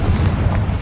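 The Confringo fire spell explodes in the Hogwarts Legacy video game. It gives a loud, deep, rumbling boom that stays heavy through one short burst, with no voices over it.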